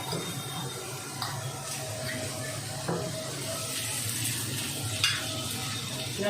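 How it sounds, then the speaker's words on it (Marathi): Chopped onions sizzle in oil as they are stirred for a Malvani-style onion and coconut masala, a steady frying hiss broken by scraping stirs and light clinks, close and continuous. "कांदा थोडासा आपल्याला गुलाबी कलरवर परतून घ्यायचा आहे"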